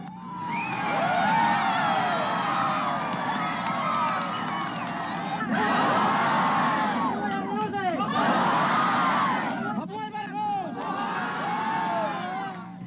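A large crowd cheers and shouts in a highly charged atmosphere as a woman is helped onto an old table, a dense continuous roar of voices and whoops that rises and falls throughout.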